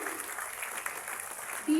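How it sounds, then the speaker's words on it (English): A classroom of students claps for a classmate in a brief, even patter of hands at moderate level, ending in a short thump. "A huge round of applause for Akshay."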